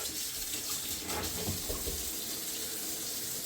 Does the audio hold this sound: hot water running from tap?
yes